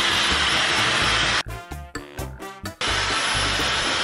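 A hair dryer blows with a loud, steady roar, cuts out briefly for a moment of quieter sputtering, then roars back on.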